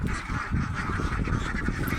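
Ducks at a duck farm housed in a raised hut out in open fields give loud, dense honking quacks, many birds calling over one another close by without a break.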